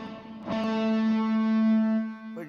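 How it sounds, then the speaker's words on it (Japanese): A sustained electric-sounding guitar note with a rich harmonic tone rings out after a sharp attack, processed with FabFilter reverb that gives a smooth, lingering body before a new pluck at the end. "このギターの音の方にはエフェクトをかけています。"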